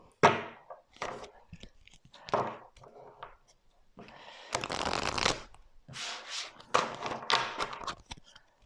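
Deck of playing cards being shuffled and handled at close range during a card reading, with several quick riffling bursts and soft slaps of cards separated by short pauses, no talking.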